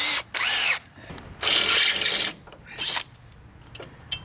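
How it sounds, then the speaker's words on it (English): Power drill fitted with a step bit enlarging a hole during a power trailer jack replacement, heard as three loud whirring bursts separated by short pauses, with no talking. "I think I'm gonna have to drill the hole a tiny bit bigger."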